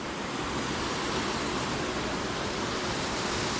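A waterfall in the Black Forest roars with a constant, broad rushing noise that stays loud and unbroken throughout, with no talking heard.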